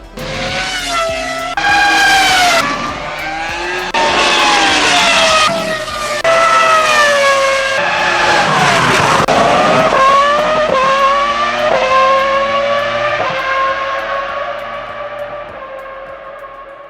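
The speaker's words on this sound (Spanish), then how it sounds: "escuchar ese V10 acelerando a fondo todavía se siente irreal" A V10 racing engine at full throttle howls loud and close, its pitch climbing sharply again and again through rapid gear changes before slowly fading away.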